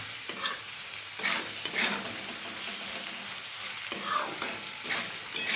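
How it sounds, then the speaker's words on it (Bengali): Radish and ginger sizzle in a pan as they fry for chana dal, with a loud, steady hiss broken by several brisk stirring scrapes. "এগুলো এখন আবার একটু ভালো করে ভেজে নেব"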